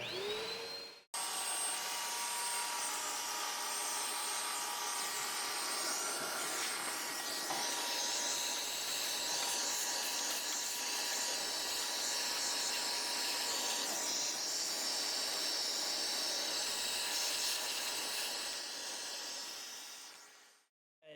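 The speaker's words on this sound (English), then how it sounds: "So I just got done vacuuming out." A vacuum cleaner runs continuously while cleaning dust out of an old cheap gaming PC, a loud steady whining hiss that starts abruptly, holds for about twenty seconds, then cuts off.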